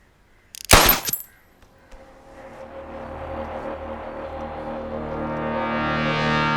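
A short burst of loud gunfire cracks out in a Hindi-dubbed South Indian horror comedy film, then fades into a rising, echoing musical swell with no talk.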